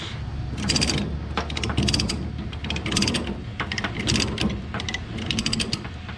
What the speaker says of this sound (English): After I ratchet, I hit the switch.